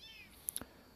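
A small kitten meows from the middle of a rural road a short way off, two or three thin high cries standing out faintly over quiet outdoor background.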